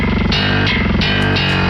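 A heavily distorted metal bass tone runs through a virtual amp with a Cali Oversized cabinet simulation, playing loud, gnarly, chugging notes that change pitch every third of a second or so.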